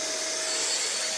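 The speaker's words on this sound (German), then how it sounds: "Bleibt noch dieser Staubsauger für 30 Euro." A cheap 30-euro vacuum cleaner, measured at a very loud 88 dBA, runs continuously with a harsh, steady whine and airy roar, close and unbroken, with no speech.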